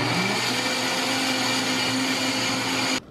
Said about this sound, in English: Now I'm gonna spoon this cauliflower onion mixture into a blender